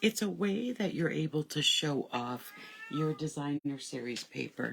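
A pet cat meows repeatedly in the background while someone talks over it, the cries faint beneath her voice.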